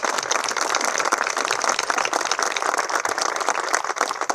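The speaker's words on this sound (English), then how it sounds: "Big round of applause." Crowd applause for airport employees at a groundbreaking ceremony at St. Louis Lambert International Airport, dense sustained clapping filling the whole stretch, fairly loud with no talk over it.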